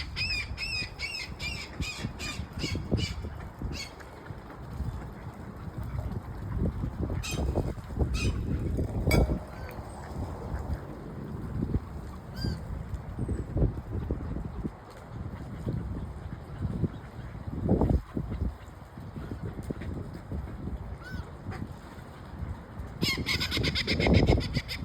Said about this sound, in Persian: مرغای ماهیخوار همدیگر رو صدا میکنن